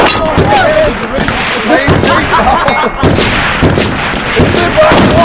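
Pistol shots at a tactical sniper series competition target: loud, close shots repeat irregularly amid outdoor noise, with excited voices shouting over them.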